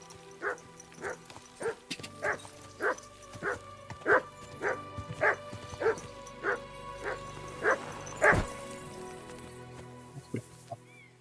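A dog in the medieval game Kingdom Come Deliverance 2 lets out about a dozen evenly spaced barks and yips, moderately close, over a low ambient bed with a thump near the end.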